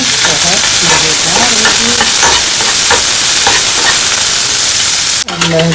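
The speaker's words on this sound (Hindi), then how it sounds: "अब हम इसमें डालेंगे शिमला मिर्च डाल के हम फ्राई करेंगे" Garlic, onion and capsicum stir-frying in a pan with very little oil for diet chicken manchurian, a steady close sizzle with scraping stirs throughout, ending in a sharp clatter.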